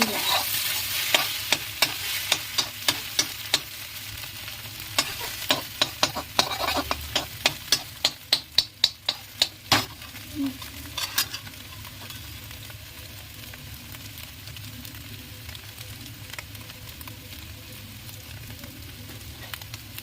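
Egg sizzling in a pan while a spatula scrapes in quick rhythmic strokes, then the stirring stops and a steady frying hiss continues.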